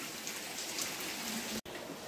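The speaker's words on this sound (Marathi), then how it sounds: "पाऊस काय कमी होता नावच घेत नाही" Heavy monsoon rain over a Konkan village, a soft, steady hiss of downpour with no voices, cut by one momentary dropout.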